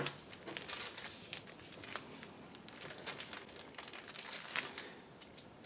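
Tape pulled and torn from a roll while preparing a tie-dye project, heard as close, fairly quiet crinkling and crackling with soft ripping bursts, no speech.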